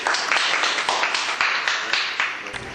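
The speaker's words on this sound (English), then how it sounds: "round of applause for Henry Clerval" An audience applauds a guest on a talk show with a steady, full round of clapping that holds throughout and tapers slightly at the end.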